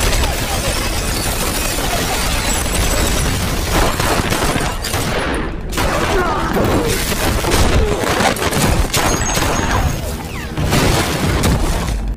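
A fierce gunfire shootout in an action film makes a dense, loud barrage of shots, crashes and shattering impacts. The chaotic bursts continue for the whole stretch.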